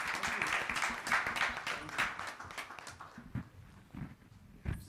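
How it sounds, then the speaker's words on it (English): A conference audience at a leadership conclave panel gives a round of applause, a fairly faint wash of clapping that thins and fades in the second half, leaving scattered knocks and shuffling. "Let's give ourselves a good round of applause"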